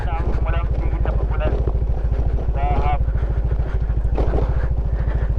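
A motorcycle engine chugs steadily and loudly throughout while riding over rocky riverside ground in Cagayan Valley, with someone talking over it the whole time.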